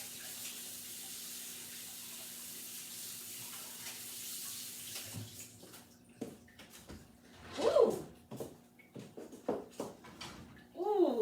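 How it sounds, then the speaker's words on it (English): Water runs from a kitchen tap in a steady hiss while hands are rinsed under it, fairly quiet, followed by a few brief louder splashes and clatters near the end. "Let me rinse my hands a little bit."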